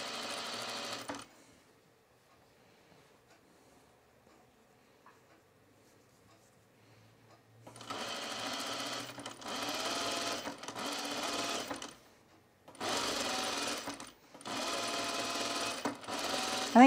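Sewing machine stitching a tucked fabric top, several loud close bursts of rapid stitching separated by short pauses, following a long quiet stretch with faint handling noise.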